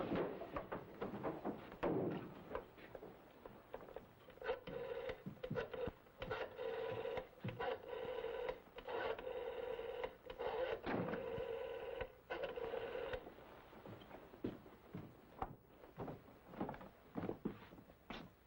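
A telephone is dialed amid clattering handling noises, with a steady tone running through the middle and irregular clicks and knocks before and after, all fairly faint.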